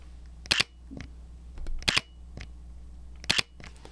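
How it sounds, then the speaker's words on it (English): A Sony A7C II camera plays its simulated electronic shutter sound three times, each a crisp, close double click spaced about 1.4 seconds apart, with quiet faint handling noise between. "that shutter sound is fake"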